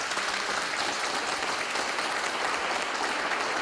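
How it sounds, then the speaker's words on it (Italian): Supporters applaud at an election celebration in Treviso, with dense, continuous crowd clapping that holds steady and fairly loud from start to finish. "Fatevi sentire un applauso, qualcosa."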